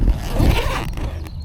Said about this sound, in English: It's also a double zipper.